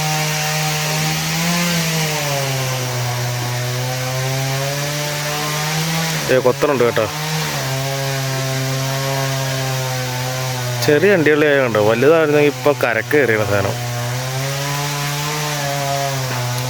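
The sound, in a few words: tree being cut nearby, likely with a chainsaw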